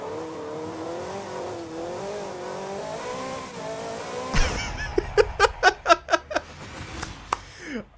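A car engine revs steadily while driving in Forza Horizon 5, a smooth, wavering drone that then breaks into a loud run of sharp shift pops and rev bursts near the end.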